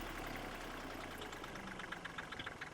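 A 1998 model tractor engine idles steadily with a low rhythmic chug and knocking pulses, close and fairly quiet, with no voices.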